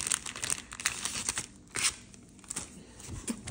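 A small sticker order package from Micplans being cut open and unwrapped, with close, irregular bursts of tearing and crinkling packaging for several seconds.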